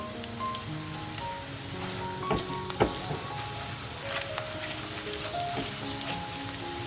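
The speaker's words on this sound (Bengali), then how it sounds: "একটু লাল করে পেঁয়াজটাকে আমাদের ভেজে নিতে হবে" Sliced onion frying in oil with a little salt and turmeric, a dense crackling sizzle like rain on a surface, with faint spatula stirs and a couple of louder scrapes, close and steady, no talk.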